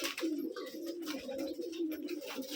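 Pigeons coo continuously at a pigeon farm in Rajshahi, a dense, near chorus of low throaty calls with some faint chirps and no talk.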